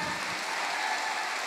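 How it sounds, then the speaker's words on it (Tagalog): Church congregation applauding during a sermon, a sustained wash of clapping from many hands that stays fairly even throughout, with no speech over it. "Palakpakan na to ang Diyos."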